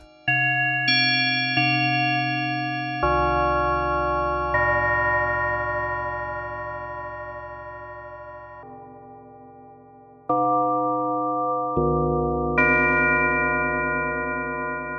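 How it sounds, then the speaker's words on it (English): Bell-like tones from the Oscidia wavetable synthesizer on iOS, a sequence of sustained, shimmering chimes with rich harmonics that change pitch every few seconds, loud and clear with no voices. "So this is a very versatile wave type, which is great for bell type sounds"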